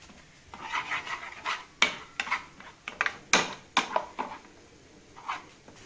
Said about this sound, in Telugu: అవే లోపల మనము పెరుగులోకి గరం మసాలా కూడా యాడ్ చేసి కలుపుతున్నాం